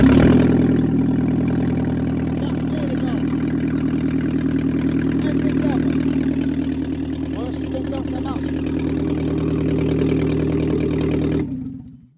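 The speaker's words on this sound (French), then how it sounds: "elle a démarré au quart de tour, l'auto" Alfa Romeo engine coming back to life after five years unused, starting then settling into a steady, loud idle for about eleven seconds before cutting off abruptly at the end.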